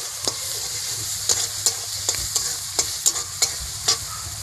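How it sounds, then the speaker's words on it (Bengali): Onion fried with ginger, green chili and garlic paste for snail curry, a steady sizzle broken by sharp, regular spatula scrapes against the pan, close and distinct, no talking. "এবারে আমি ভালো করে মশলাটা কষিয়ে নেব।"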